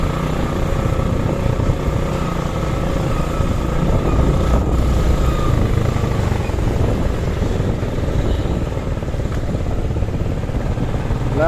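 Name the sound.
Suzuki Gixer SF motorcycle engine popping as it heats up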